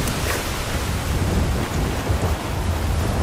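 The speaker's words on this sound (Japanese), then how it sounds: "嵐も長くは続かない。" In the video game Battlefield 4, a thunderstorm sends a steady wash of heavy rain and a low rumble of thunder, continuous and moderately loud with no voices over it.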